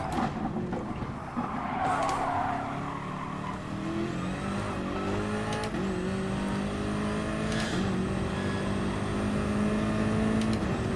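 Race car engine in Gran Turismo Sport, climbing through gears with rising whine and shifts repeating, steady and fairly close, with faint tire noise and no voices.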